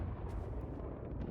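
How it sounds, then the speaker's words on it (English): Explosion in the game Power Wash Simulator on a Midgar map, a dense sustained rumbling blast with low roar filling the moment, loud and steady, without talk. "And one more explosion for good measure."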